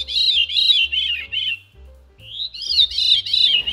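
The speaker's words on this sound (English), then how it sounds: "So this is a Veery, a cute little brown bird that belongs to the thrush family." Veery, a small brown thrush, singing clear fluting, downward-spiralling phrases in two bursts separated by a short pause, close and distinct against a faint low hum.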